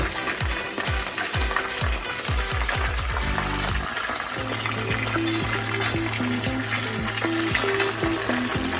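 Chicken pieces fry in hot oil with a dense, steady sizzle and crackle throughout, joined by scraping stirs and a faint rhythmic tapping, close and fairly loud with no talk.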